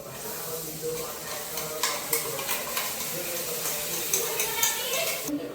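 Puris sizzle steadily in hot oil, with the clatter of stirring in the pan, close and continuous.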